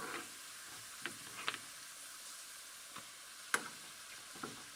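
Kashmiri red chillies dropped into hot oil for a kadhi tempering, stove switched off, give a faint, steady sizzling hiss dotted with a few soft pops and crackles.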